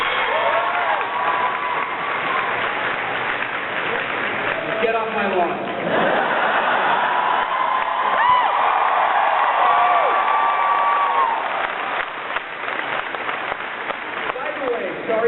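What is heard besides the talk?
audience clapping and cheering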